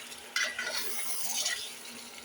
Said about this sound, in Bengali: আমি রান্না করতেছি পাবদা মাছ। পাবদা মাছটা কষায় রান্না করব।